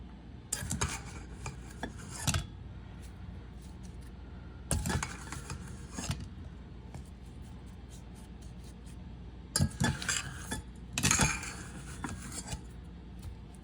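Spoon scraping and tapping in a baking pan while cake batter is spooned over blueberries, a few short clustered bursts of metal-on-pan clatter separated by quiet pauses, faint and close.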